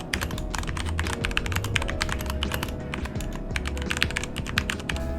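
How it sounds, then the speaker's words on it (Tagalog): Fast typing on a Keychron K2 Bluetooth mechanical keyboard with brown switches, a dense stream of close, crisp key clicks and thocks over a low steady background hum. "For the keyboard, I have a Keychron K2 with brown switches. So it sounds so good and it's really nice to type on."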